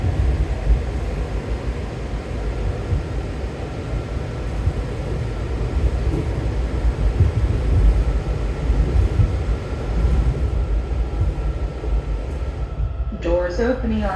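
A DC Metro Blue Line train riding between stops, a steady loud rumble and hum of wheels and car noise running throughout, with a brief rattling burst near the end.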